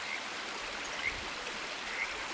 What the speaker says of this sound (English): This is the forks of the two creeks